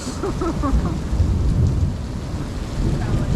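Heavy rain pours steadily through a thunderstorm at an off-grid homestead while deep thunder rumbles beneath it, continuous and close, with no voices.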